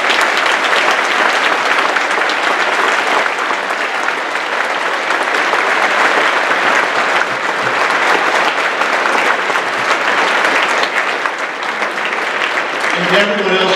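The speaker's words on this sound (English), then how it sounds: "Let's have a nice round of applause." A crowd at a Veterans Day program gives a sustained round of applause, loud and dense clapping filling the room evenly from start to finish.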